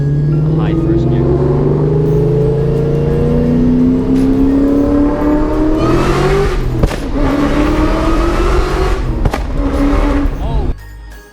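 A 2003 Mustang Cobra on 15-inch drag wheels launches hard in high first gear, its loud engine roar rising steadily in pitch as it accelerates, with people's voices briefly overlapping near the end.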